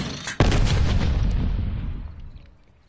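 A grenade goes off in Call of Duty Zombies: one sharp, loud close blast followed by a long rumbling tail that slowly fades away.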